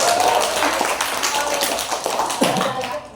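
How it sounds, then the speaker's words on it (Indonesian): A few seconds of dense, steady clapping from a small group close by in a classroom, with faint voices mixed in underneath. "Tepuk tangan dulu buat kita."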